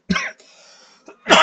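A person coughs up close, a sharp burst at the start, a softer rasp in the middle and another loud cough at the end, with no speech in between.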